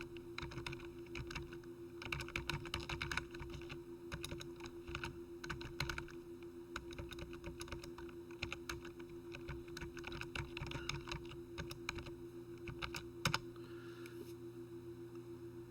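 Computer keyboard typing while entering a heading at the top of a Word document, a run of quick, close, fairly soft key clicks in uneven bursts over a steady low hum.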